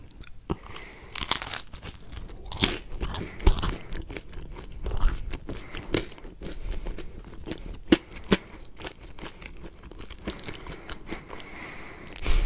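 Close, crisp crunching and biting on a firm, crumbly Chuck E. Cheese pepperoni pizza, irregular bites and chews spread across the clip with no talking.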